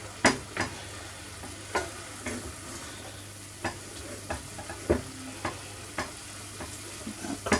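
Lean minced beef browning in a pan for cottage pie, with a low steady sizzle under sharp, irregular scrapes and clicks of a utensil stirring, spaced a second or so apart, fairly quiet and close.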